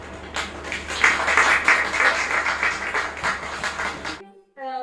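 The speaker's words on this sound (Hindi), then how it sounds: "तो एक बार जोरदार तालियां" Audience clapping at a Hindi book launch and poetry gathering, with steady, dense applause for about four seconds that stops abruptly, followed by a brief voice.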